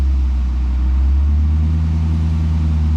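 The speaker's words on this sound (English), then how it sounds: "while holding the brake, we'll rev the car up" The engine of a flood-damaged Chevrolet Camaro ZL1 is held on the brake and revved gently to about 1,000 RPM, giving a steady deep hum that rises slightly in pitch halfway through, close and continuous.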